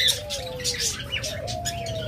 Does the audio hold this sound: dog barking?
no